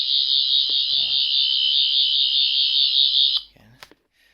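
Limited edition 14th Doctor sonic screwdriver on its red setting, giving a loud steady electronic buzzing tone that holds for about three seconds and then cuts off, followed by faint handling clicks.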